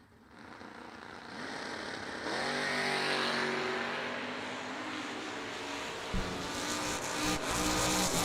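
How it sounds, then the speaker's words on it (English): Vintage drag race cars roar as they accelerate down the strip, a loud sustained engine drone rising in pitch and staying heavy throughout, with a sharp lower-pitched burst near the end. "Boy, it's a great drag race right there."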